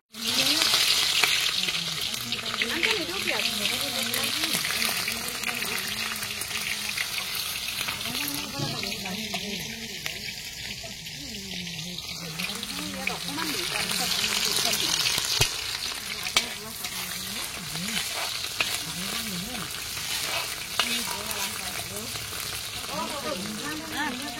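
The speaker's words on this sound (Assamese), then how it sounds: "মাছখিনি আগত ইয়াত ফ্ৰাই" Fish frying in oil in a pan for a home-cooked meal: a continuous, close sizzle and crackle with occasional stirring scrapes throughout.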